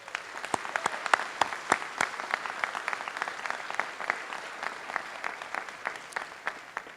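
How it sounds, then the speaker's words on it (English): A crowd at a SkyConnect ribbon-cutting ceremony claps steadily throughout, a dense patter of many hands with sharp individual claps standing out, close and sustained. "let's give everybody involved a big round of applause"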